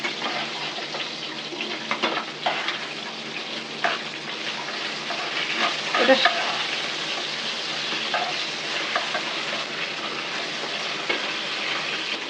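Pabda fish fry in hot oil with a continuous steady sizzle, broken by a few scraping clinks as the pieces are turned, including a louder clatter midway; a brief spoken word is heard.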